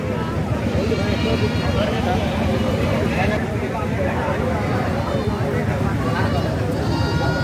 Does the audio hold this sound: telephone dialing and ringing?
no